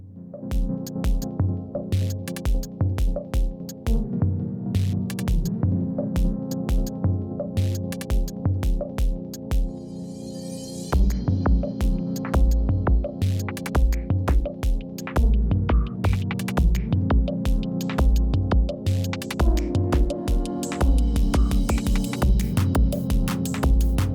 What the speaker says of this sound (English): All right, now let's go and print.